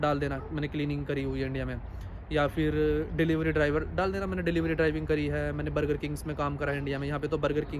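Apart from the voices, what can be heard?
None of the usual background noises is heard.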